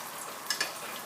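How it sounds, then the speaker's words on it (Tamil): Dals and dried chillies frying in hot oil with spluttering mustard seeds, a soft steady sizzle with two quick pops close together midway through. "இப்போ கடுகு நல்லா வெடித்த உடனே துவரம்பருப்பு, கடலைப்பருப்பு, உளுத்தம்பருப்பு, மிளகா வத்தல் எல்லாத்தையும் போட்டு நல்லா செவந்து வரும்."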